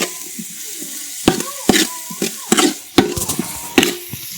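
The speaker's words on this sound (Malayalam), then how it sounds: "ഉള്ളി സവാളയിട്ട് മൂത്തോണ്ടിരിക്കുകയാണ്" Onions frying in oil in a pan, a steady close sizzle broken by repeated sharp stirring clatters and scrapes of a utensil against the pan, no talking.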